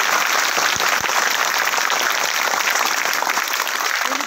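A school audience of students claps together in a dense, continuous burst of applause, loud and close, with no voices standing out.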